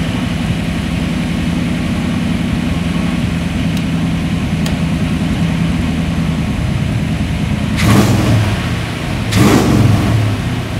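A Ford Model T hot rod engine runs steadily at idle just after its first start, with a loud low rumble throughout and two brief rough bursts near the end.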